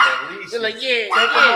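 Dogs bark and yip in short bursts close by, mixed with people talking over them.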